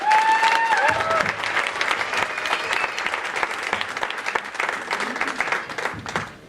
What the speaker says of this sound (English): So please give another round of applause.